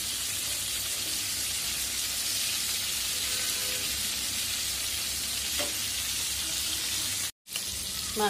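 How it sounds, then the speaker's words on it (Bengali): Fish frying in a pan on a home stove, a steady close hiss of sizzling oil that runs unbroken for several seconds, with a brief clink and a momentary dropout near the end. "মাছটা ভাজা হয়ে গেছে, উঠাই ফেলবো।"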